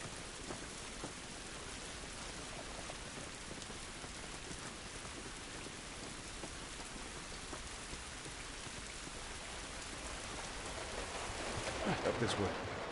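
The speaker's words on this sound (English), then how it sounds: "This rain ain't gonna do us any good." Steady rain pours down in a constant, even hiss in the video game The Last of Us, with scattered drops pattering throughout and a slight swell near the end.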